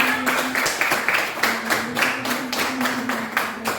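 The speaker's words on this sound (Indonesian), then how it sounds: "Kita beri tepuk tangan untuk kita semua." A school class claps hands together in a classroom, a rhythmic run of fairly uniform claps in steady bursts, with a faint sustained tone and murmuring voices beneath.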